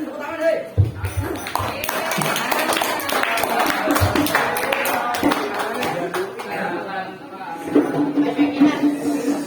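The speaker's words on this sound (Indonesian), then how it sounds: "Tepuk tangan dong." An audience claps at a Maulid Nabi religious gathering, a dense run of sharp hand claps mixed with crowd noise and chatter, moderately loud and close, with a few pauses and voices underneath.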